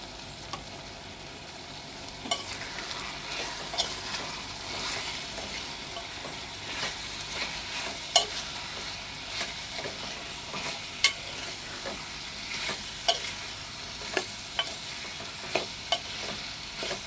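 Jackfruit chicken cooks in an oily pan with chilli, coriander and masala powders, a steady close sizzle and frying hiss running throughout, with sharp spatula clicks and scrapes against the pan growing more frequent toward the end.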